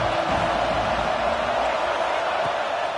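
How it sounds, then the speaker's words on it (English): A stadium crowd at a football game roars steadily with a broad, continuous wash of cheering and noise that holds level throughout, with no clear individual voices. "This crowd ready to make its presence known."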